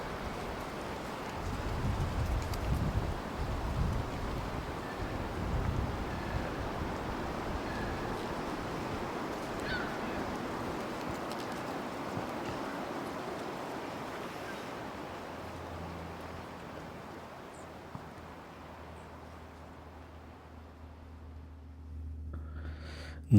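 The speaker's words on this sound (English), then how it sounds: "It's getting very windy." Steady wind roars and rushes outdoors, strongest early with low gusty buffeting, then gradually easing and thinning toward the end.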